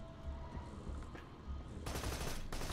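Gunfire in the video game Borderlands 2 during co-op play, a quiet rumbling stretch giving way to a loud, dense burst of sustained automatic fire that runs to the end.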